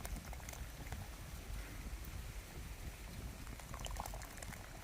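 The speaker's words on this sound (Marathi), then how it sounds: "अशा उकळत्या रश्यात" A thin mutton gravy bubbles and simmers steadily in a pot over a wood-fired stove, with soft popping and gurgling throughout and no voices.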